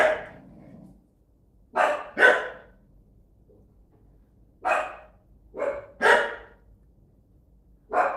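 Several sharp dog barks in irregular bursts, some paired close together, with quiet pauses between and a brief low growl at the start.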